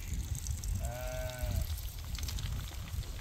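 A single clear bleat rises from a flock of about 500 young, pregnant breeding ewes held for sale, standing out for under a second against a steady rough outdoor background noise.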